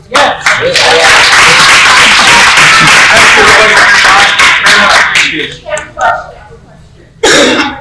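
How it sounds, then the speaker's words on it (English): A burst of loud clapping and crowd noise from many people at a community meeting in Pittsburgh, fading out, then a brief renewed clatter at the end. "honesty deserves a hand clap"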